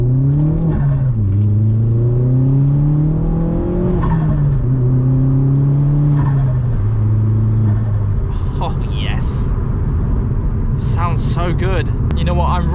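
A Vauxhall Astra VXR pulls away from a lay-by, its engine climbing through several rising revs and gear changes, loud and close from inside the car, with talking over it.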